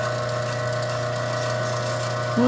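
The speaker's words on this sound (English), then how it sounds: "Okay, there's water coming out." Water runs onto a lapidary grinding machine while it shapes a crazy lace agate cabochon, a continuous motor hum with steady trickling water, rising slightly at the end.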